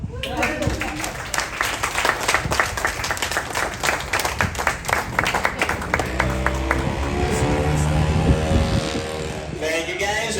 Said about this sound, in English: That clapping did not feel forced at all.